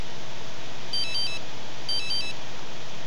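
A mobile phone rings in The Sims 3 video game as two short, bright electronic ringtone bursts about a second apart over a steady, noisy background.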